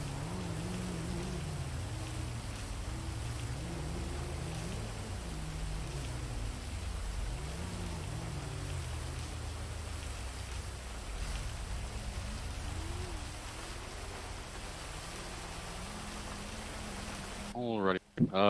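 Steady rain hisses in a roleplay video game, a dense, even wash of falling drops that runs continuously with a low voice murmuring underneath.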